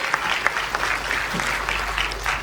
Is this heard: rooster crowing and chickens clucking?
no